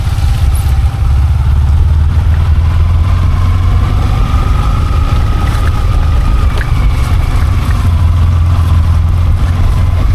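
A motorcycle engine runs steadily near a river crossing, with a loud, close, continuous low drone and little change in pitch throughout.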